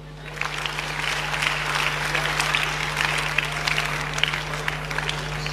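A church congregation claps steadily in a continuous wash of applause, with a low electrical hum underneath and a voice faintly present.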